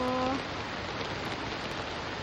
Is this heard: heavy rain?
yes